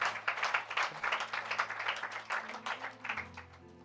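Church congregation applauding during a Sunday service, steady rapid clapping from many hands at moderate distance, fading slightly toward the end.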